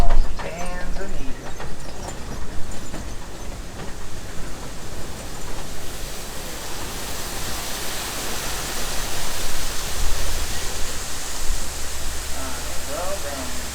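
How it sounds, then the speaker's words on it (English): Rushing water from the waterfalls on the Kilimanjaro Safaris ride in Disney's Animal Kingdom, a broad, continuous roar that fills the whole stretch, with a vehicle rumbling underneath and brief voices near the start and end. "A dip down into the waterfalls of Tanzania."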